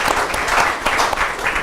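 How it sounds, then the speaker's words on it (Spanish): Applause from a lecture audience in Valparaíso greets a speaker, a dense patter of many hands clapping steadily and fairly loudly through the short stretch. "vamos a hacer Aplausos para Carlos."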